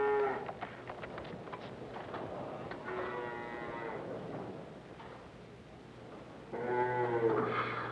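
Dairy cows moo on a farm during milking, with several drawn-out calls heard near and fairly loud over a low steady machine hum, the last one long and strong.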